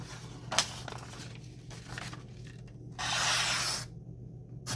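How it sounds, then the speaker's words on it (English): A Kizer Brat knife slices through a fresh sheet of paper, giving a soft scraping rustle followed by a steady, close hiss of the blade gliding through, with no talking. "I actually just shaved the paper."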